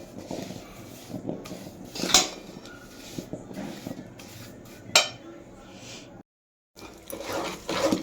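Dry fruits stirred together with cardamom, nutmeg and ginger powder for adadiya, with intermittent scraping and clinking of a spoon against a metal vessel, moderately close, with a few brief sharper knocks and a short silent gap.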